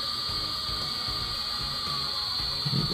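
An electric motor driven by an ABB ACS380 drive runs up toward 1600 RPM, producing a steady, close whine with a faint mechanical ticking underneath, alone and without talk.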